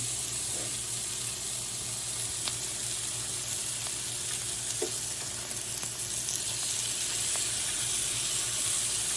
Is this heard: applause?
no